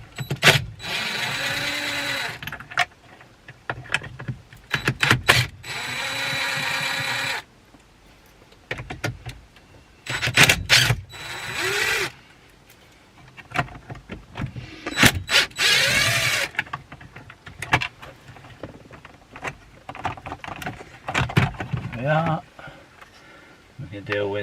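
Tool work on a BMW steering angle sensor, with T25 screws being undone in repeated short whirring bursts of a powered driver separated by pauses, close and loud, alongside someone talking at times.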